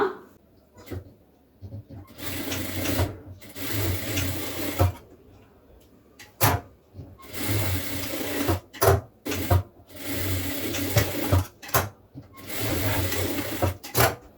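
A sewing machine stitches the shoulder seam of a blouse in several loud, steady whirring runs with short pauses between them, a busy tailoring-class rhythm heard up close.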